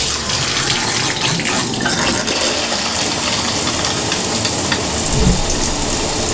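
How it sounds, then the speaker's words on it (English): Hot water running from a bathroom shower head, a loud, dense, continuous hiss of spray that stays steady throughout with no talking. "run your shower head for about 2 or 3 minutes with nice hot"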